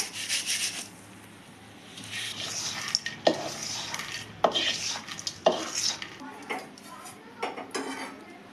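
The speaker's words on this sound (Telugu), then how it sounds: "ఇది కూడా బాగా క్రిస్పీగా వచ్చేంత వరకు వేయించుదామండి" Curry leaves fried in oil in a pan for curry leaf powder, a spoon clattering and scraping against the metal over a light sizzle, with a few sharp knocks and no speech.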